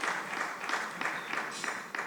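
A fairly faint, steady round of applause from the audience at a Lagos multi-door courthouse event, with scattered clapping carrying on throughout and no voices above it.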